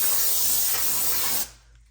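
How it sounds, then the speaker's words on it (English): A single sustained hiss of aerosol cleaner spray in a car repair setting on a Honda CR-V, loud and close, lasting about a second and a half before cutting off abruptly into near silence. "one more spray for good luck"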